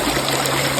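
Creek water running beneath a footbridge on the Grace Coolidge Trail in Custer State Park, South Dakota, a steady, close rushing trickle heard alone for under a second.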